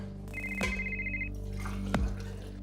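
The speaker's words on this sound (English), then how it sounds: "Daniel receives a call from his editor." A telephone rings with an incoming call early on a December morning, a steady electronic tone followed by sharp clicks as the handset is handled.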